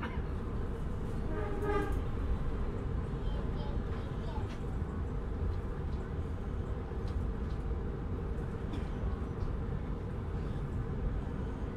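A Kamandaka passenger train passing at Tegal station, heard from aboard another train as a continuous loud rail rumble and rolling noise, with brief faint tonal squeals early on.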